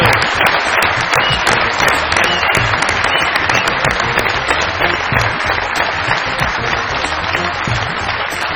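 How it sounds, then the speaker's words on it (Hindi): Studio audience on a Pakistani comedy talk show bursts into steady, loud applause to welcome a guest, a dense continuous patter of many hands lasting several seconds. "बहुत सारी तालियों में वेलकम कीजिएगा अंदलीप अब्बास साहिबा।"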